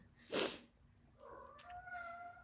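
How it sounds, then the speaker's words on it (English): A cat in a room gives a short, breathy meow followed by a softer, rising second call, both faint and close against a quiet indoor background. "We've got a cat here. There's always a cat around"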